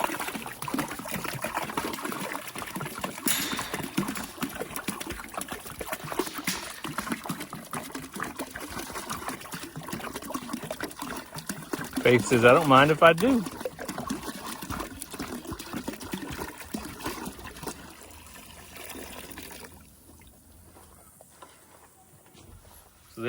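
Fresh water pours and trickles into a donkeys' tub outdoors, a continuous splashing gurgle that swells briefly midway, with a short spoken line over it.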